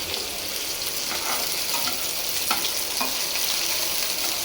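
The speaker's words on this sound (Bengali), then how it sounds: "মিষ্টি কুমড়া ভাজি বসাইলাম" Sweet pumpkin fries in a pan over lowered heat, making an even, close hiss with a few soft pops and clicks throughout, with no talking.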